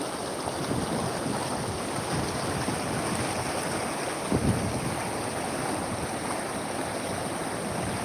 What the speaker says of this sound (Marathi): असा भरपूर प्रमाणात नदी फुल भरून वाहत आहे